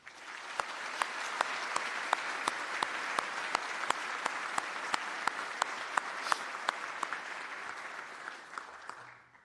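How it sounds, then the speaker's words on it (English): Steady, full applause from a crowd at a transit K9 graduation ceremony, honoring the families of the handlers, sustained for several seconds with sharp individual claps standing out before fading at the end. "If we give a round of applause to the families."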